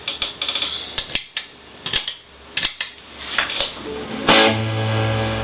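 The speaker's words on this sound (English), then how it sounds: "the reverb is still there" Electric guitar strums and picked chords through a Laney TF200 amp ring out with a spacious reverb tail, ending on a sustained, echoing chord.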